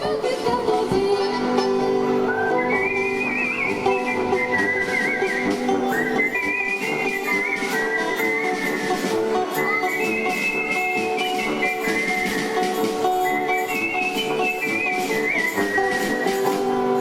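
A person whistles a lilting tune over a steady background accompaniment, the melody rising and falling in repeated phrases.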